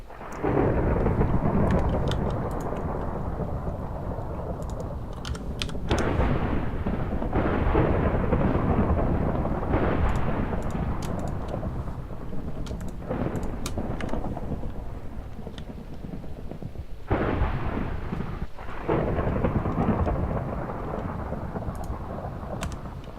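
Thunderstorm in a modded Minecraft 1.10.2 game: steady, loud rumbling thunder over rain fills the whole stretch, swelling in several heavier rolls without any talk.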